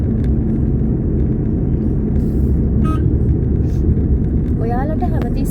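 A car's engine drones steadily from inside the cabin while driving slowly along a narrow road and shifting into fourth gear, a loud continuous low rumble with brief mechanical clicks and a voice talking over it.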